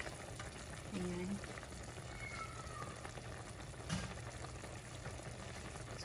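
Sauce with chicken breast, potatoes and carrots bubbles and simmers in a pot, a steady close burbling with a few light clinks and stirring sounds.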